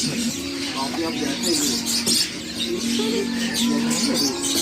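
A young suren bird calls repeatedly at a busy bird market, with steady, tonal cooing notes beneath chirps from other birds and nearby chatter.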